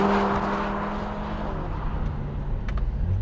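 Engine of a Lotus Emira 420 Sport held at high revs, a steady insistent, urgent drone with strong harmonic bands, loud and close, heard alone without talk.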